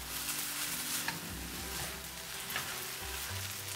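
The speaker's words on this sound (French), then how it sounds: "J'ajoute les crevettes, les œufs, 1/4 de cuillère à café de poivre moulu et je remue pendant 30 secondes." Shrimp, eggs and rice vermicelli stir-fried in a hot pan with ground pepper: a loud, dense, continuous sizzle fills the short stretch, with faint scraping of the stirring utensil underneath.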